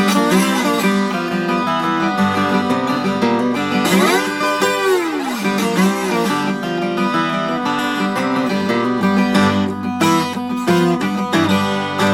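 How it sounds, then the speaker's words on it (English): A Taylor 12-string acoustic guitar in open G tuning plays a slide blues riff, with bright ringing chords and clear sliding glides, loud and continuous without any voice. "I'm playing it on a Taylor 12 string."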